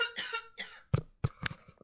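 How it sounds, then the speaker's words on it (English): A person coughs twice, short close throaty bursts following brief speech, quiet and indoors. "I had to cough."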